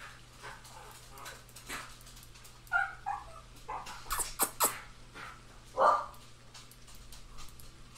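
A dog in a Phasmophobia ghost hunt gives a few scattered barks and yips among clicks and knocks, the loudest bark near the end, over a low steady hum.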